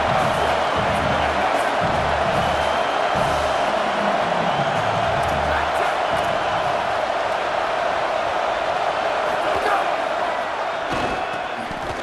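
A loud, dense roar from a packed football stadium at Ohio State versus Indiana, cheering continuously throughout with bursts of shouting and a slight fade near the end, with no talk over it.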